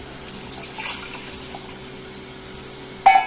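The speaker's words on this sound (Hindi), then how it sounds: "1 गिलास पानी डालें और फिर इसे बचे हुए बेसन में डाल दें" A yogurt and water mixture pours into leftover gram flour while Punjabi pakoda kadhi is made, a steady splashing trickle lasting about three seconds and ending in a sharp clink.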